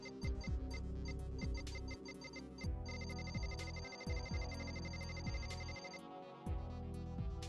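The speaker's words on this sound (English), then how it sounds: "This one should be the Discord call one." A Discord incoming-call ringtone plays loudly, repeating its bright chiming tone pattern over a continuous musical backing with no talking.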